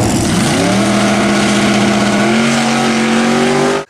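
A twin-turbo 5.2 liter Magnum V8 in a junkyard Ram pickup revs hard, its loud, close engine roar climbing in pitch and holding high before cutting off abruptly.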